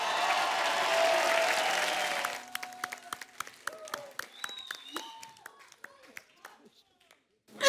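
Studio audience on a comedy talk show bursts into loud applause and cheering to welcome a singer-actor, then the clapping breaks up into scattered individual claps with faint vocal shouts as it fades out.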